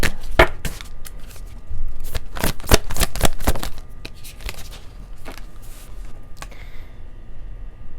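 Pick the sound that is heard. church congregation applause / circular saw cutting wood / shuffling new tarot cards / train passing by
shuffling new tarot cards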